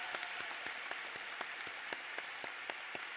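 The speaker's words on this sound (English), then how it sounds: "let's give them a big round of applause" Applause from a commencement audience at a Florida Gulf Coast University ceremony, faint and distant, with scattered claps ticking steadily against a soft wash of room noise.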